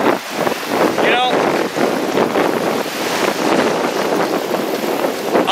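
Gusty wind by Lake Erie buffets the microphone with a loud, continuous roar, while a voice briefly cuts through the noise.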